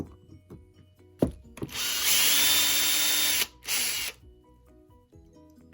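A power drill whirs loudly for a couple of seconds while working on a Traxxas TRX4 RC car, stops, then gives a shorter burst, with small clicks and handling noises before and after.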